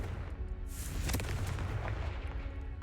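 Confringo blasting spell in Hogwarts Legacy, a booming explosion with a sharp crack near the one-second mark, then a lingering rumble and debris fading out.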